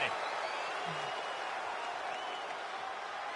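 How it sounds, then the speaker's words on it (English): A wrestling crowd at a WCW Nitro event at Foxwoods in Connecticut cheers in a steady, dense roar that fills the whole stretch without letup, with no clear individual voices standing out. "Listen to the crowd here at Foxwoods."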